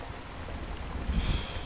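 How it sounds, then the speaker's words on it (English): Rain falls in a horror video game, a soft, continuous patter and hiss on surfaces with a faint low rumble swelling toward the end, no talking. "It's always raining."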